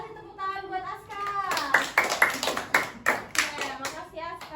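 Children in a classroom clap their hands together, a burst of quick, uneven applause that follows a few seconds of a voice and then trails off.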